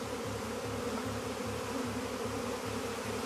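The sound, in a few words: swarm of buzzing bees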